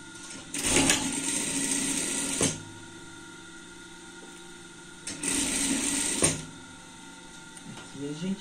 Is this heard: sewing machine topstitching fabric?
yes